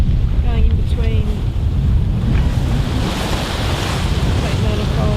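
Wind and waves roar steadily around a boat sailing off Cape Manifold between the cape and an island, a loud continuous wash with faint voice fragments early on.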